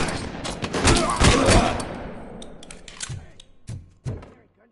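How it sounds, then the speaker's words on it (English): Gunfire in the Robocop Rogue City game, a dense burst of shots followed by a few separate sharp reports fading out, close and loud. "Gunshots?"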